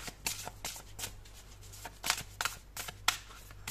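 Tarot cards shuffle in a series of quick, close riffling bursts with short pauses between them, faint and alone.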